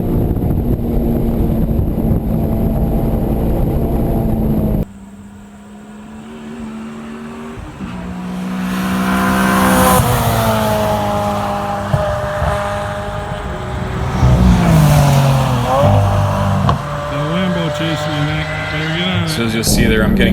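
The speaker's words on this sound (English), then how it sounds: "Car wants to spin a little bit at the top of third gear over the hill" A Honda Civic Si race car driven flat out on a track, its engine climbing and falling through gears, loud and close, with a voice talking over it throughout.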